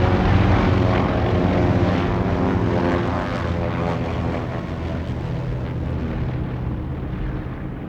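Martin Mars flying boat in flight, its big propeller engines droning loudly and steadily with a dense, rumbling roar that eases slightly over the span, no voices present.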